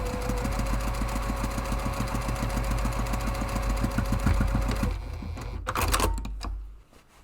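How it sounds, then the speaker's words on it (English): A sewing machine stitches closed a padded camera bag divider with a fast, even run of mechanical clatter for about five seconds, then stops with a few clicks and handling sounds. "pull that nice and taut, and go ahead and stitch that closed"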